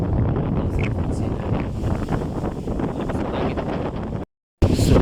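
Loud, steady wind buffeting the microphone with a deep rumbling roar in very cold weather, briefly cutting out near the end before returning.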